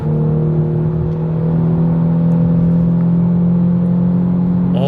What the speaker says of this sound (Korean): 지금 5000rpm 정도 주행하는 상황인데 상당히 머플러 사운드가 많이 들어옵니다.